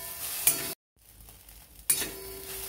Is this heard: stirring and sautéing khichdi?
yes